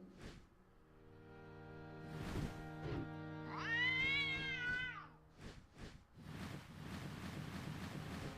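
A cat meows once in the video game Déraciné, a clear, drawn-out, rising-and-falling cry near the middle, set among soft ambient game sounds and brief knocks.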